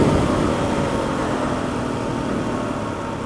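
A KTM 690 single-cylinder motorcycle engine revs hard through a wheelie in the Simpson Desert, a loud, steady roar that sits close and continuous, easing only slightly toward the end.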